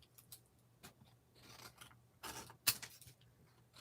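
Scissors snip paper scraps into smaller pieces for card making, giving several quiet, separate cuts and rustles spread unevenly, with one sharper snip near the end.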